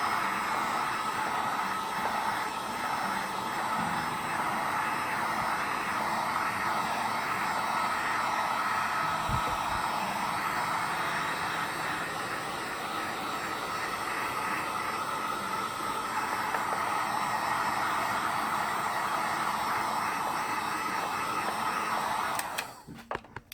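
A heat gun blows a steady, loud, broadband hiss while warming the face of a DIY thermoplastic skull, running unbroken for over twenty seconds before cutting off abruptly at the end.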